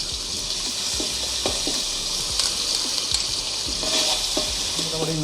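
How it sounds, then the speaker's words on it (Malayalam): Crushed ginger, green chili and garlic fry in coconut oil, giving a steady hiss with a spoon scraping and stirring through it at intervals. "അതിലേക്ക് നമുക്ക് ചതച്ച് വെച്ചേക്കുന്ന ഇഞ്ചി, പച്ചമുളക്, വെളുത്തുള്ളി അതൊന്ന് ചേർത്ത് കൊടുത്ത് അതിനെ ഒന്ന് മൂപ്പിച്ചെടുക്കാം."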